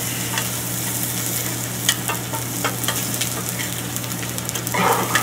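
Fresh vegetables with thyme and rosemary fry in a pan, giving a steady close sizzle with scattered crackles and stirring scrapes throughout.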